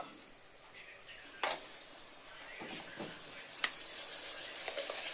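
Washed mutton frying in masala in a pot, a soft steady sizzle broken by a few sharp clinks and scrapes of a spoon against the pan.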